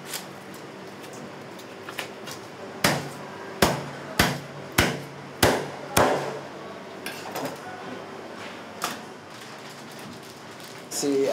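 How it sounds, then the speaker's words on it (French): A fishmonger cuts a steak from a grouper with a series of sharp, loud chops: six evenly spaced heavy blows, then a few lighter knocks, with quiet handling noise between them. "tu me coupes une belle darne"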